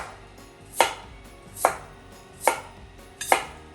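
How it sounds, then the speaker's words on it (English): A knife chops a sweet potato into quarter-inch pieces on a cutting board, four evenly spaced, crisp thuds close by with quiet pauses between them. "So we're just gonna cut this 1/4-inch pieces"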